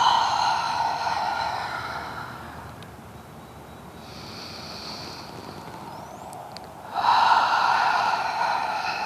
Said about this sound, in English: this is called Ujjayi breath, or ocean sounding breath